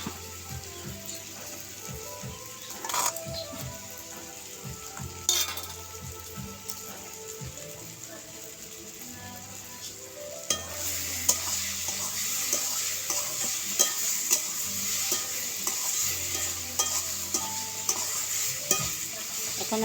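Vegetable bhaji frying in oil in a pan, heard as a steady close sizzle with repeated scraping stir strokes, the frying growing louder and denser partway through.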